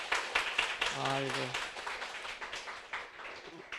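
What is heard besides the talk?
church congregation applauding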